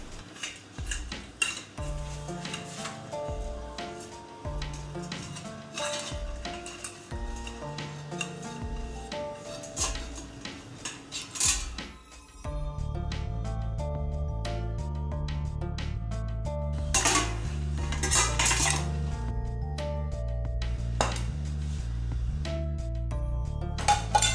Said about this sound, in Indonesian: buka tutup dandang dan keluarkan piring yang berisi ikan dari dandang